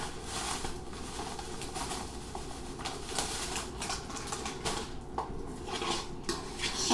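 Breadcrumb mixture worked together in a bowl, giving a steady, close scraping and clattering of utensil against the bowl with soft patter throughout, no talk.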